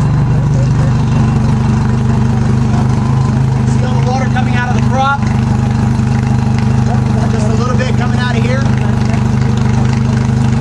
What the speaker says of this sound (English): Then just let the engine idle. There's no need to race it. Just let it idle.